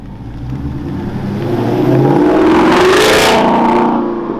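A loud Ford Mustang engine with a Borla exhaust revs up, swelling to a strong, throaty peak with a roaring exhaust, then easing back down.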